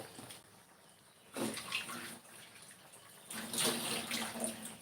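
Water runs from a kitchen tap in short bursts while something is washed before cooking, splashing on and off with quiet pauses between.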